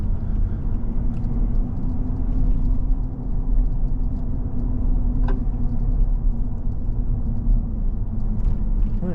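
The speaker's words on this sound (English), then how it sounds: "let's hit this rough road and see how this Bilstein setup feels." A Ford F-150 pickup with a Bilstein suspension setup drives over a rough road, producing a steady low rumble of engine and tyres with a brief rattle or knock partway through, heard from inside the cab.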